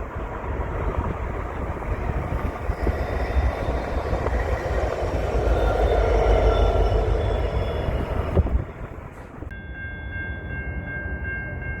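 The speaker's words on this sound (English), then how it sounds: "we saw train U762 south in the siding" Freight train U762 rolls past in a rail siding, giving a steady, broad rumble and clatter that swells midway and then drops off, leaving a faint tonal hum at the end.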